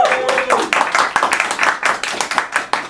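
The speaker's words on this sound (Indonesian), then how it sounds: "Boleh tepuk tangan?" Studio audience clapping on a comedy talk show, a steady burst of many hands applauding continuously for a few seconds at fairly close range, with a voice briefly heard at the start.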